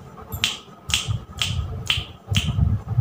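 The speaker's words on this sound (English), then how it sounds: "Now snap your fingers." Children snap their fingers in a loose group, five crisp bursts of clicks about half a second apart, close and fairly loud, with soft rumbling room noise between them.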